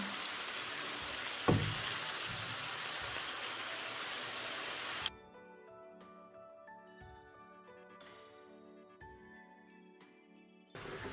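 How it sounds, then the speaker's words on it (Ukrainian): Mushrooms and vegetables fry in sunflower oil over medium heat, giving a dense, steady sizzle for about five seconds before it drops away to a quieter background with faint tonal sounds. "Смажимо на соняшниковій олії"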